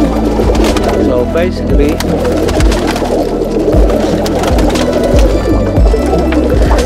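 Roller pigeons cooing in a loft, low soft repeated coos with wing and shuffling sounds close by, while someone talks over them.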